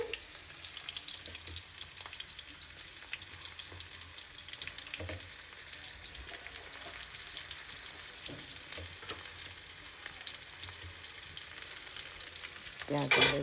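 Onions fry in a pan, sizzling steadily and close for the whole stretch, with faint stirring clicks and a brief louder flare at the very end; no talking.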